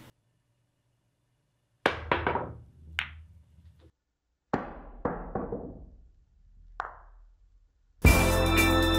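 Billiard balls struck in a masse jump shot with a McDermott jump trainer cue ball: sharp cue-tip clicks and ball knocks with bouncing thuds, two separate attempts with quiet gaps, ending in louder clattering.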